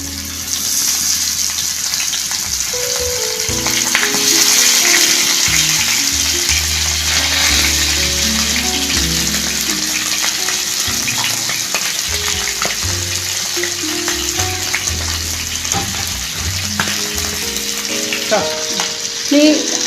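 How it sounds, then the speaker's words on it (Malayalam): Mackerel pieces fry in hot coconut oil in a Kerala-style pan, giving a loud, steady sizzle and crackle close up for the whole stretch, with faint scrapes and clinks now and then. "അതിനുശേഷം ഈ അയില ഓരോന്നോരോന്നായിട്ട് ഇതിലേക്ക് വെച്ചു"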